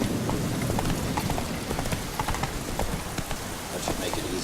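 Horse hooves clip-clop steadily in a quick galloping rhythm across a game landscape in The Witcher 3: Wild Hunt, with a faint rain-like hiss and a voice briefly heard.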